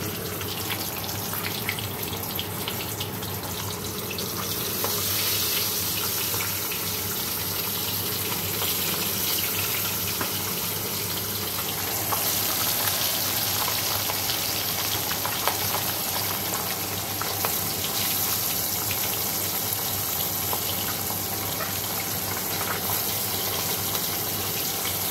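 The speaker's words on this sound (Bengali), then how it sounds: "চলো মাছগুলো ভেজে নিই।" Small puti fish coated in salt and turmeric fry in hot oil in a pan, giving a loud, continuous crackling sizzle that holds steady for the whole stretch with no talking.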